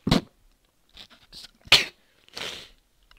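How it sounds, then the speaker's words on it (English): A close, sharp human sneeze bursts out loudly, set among a few shorter breathy sounds and quiet pauses. "Sorry, I had to sneeze there."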